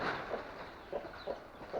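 Several soft clucks from chickens nearby on a farm field, spaced irregularly over a quiet outdoor background.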